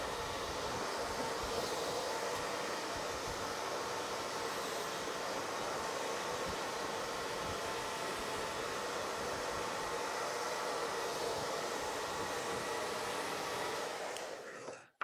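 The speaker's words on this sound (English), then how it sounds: "So now we're just finishing up the blow dry." A hair dryer blows steadily and loudly for the whole stretch while a man's hair is finished being blow-dried during styling, then cuts off abruptly at the very end.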